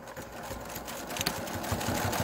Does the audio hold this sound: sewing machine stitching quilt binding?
yes